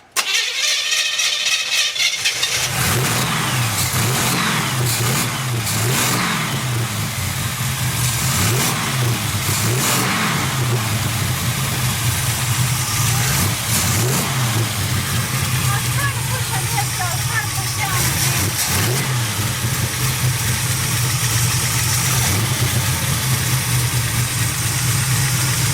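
Car engine cranks briefly, catches and starts, then runs loudly with repeated revving swells over a steady idle, close by, with people talking over it throughout.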